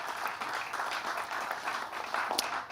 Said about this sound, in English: So won't you please give yourselves a big round of applause.